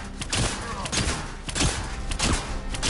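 Gatlock cannons in Dragon Age: The Veilguard firing in a fight, with heavy repeated booming shots at irregular intervals over rumbling combat noise and some talk.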